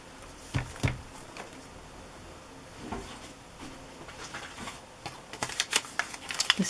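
Keys of a typewriter strike in scattered clusters, sharp clacks spaced irregularly then coming faster in a quick burst near the end, faint and close in a quiet room.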